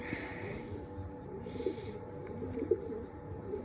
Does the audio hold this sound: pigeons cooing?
yes